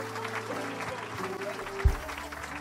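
A church congregation at an evening healing service in Evry claps steadily together, a dense patter of applause under a speaker's voice, with a brief thump near the end.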